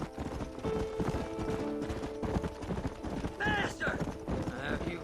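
Horse hooves clip-clop steadily in the Red Dead Redemption video game, a rhythmic trotting close by, running under in-game character dialogue and a horse whinny near the end.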